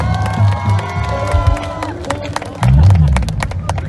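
An outdoor crowd gathered in a public square to watch presidential election results claps and cheers. A voice speaks over the crowd at first, and the applause and cheering swell louder toward the end.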